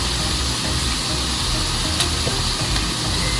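Beef stroganoff with Dijon mustard and Worcestershire sauce is stirred in a hot pan, a dense continuous sizzle and scraping close by, with no talk over it.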